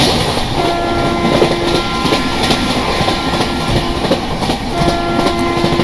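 Train running at speed on the Saurashtra Mail route in RAILWORKS 2023 Train Simulator, a steady loud rumble with rhythmic clickety-clack over the rails and a faint sustained horn tone, no talk.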